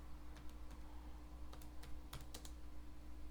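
Quiet keystrokes on a computer keyboard tap out a label in a technical drawing program, several soft clicks in short bursts over a steady background hum.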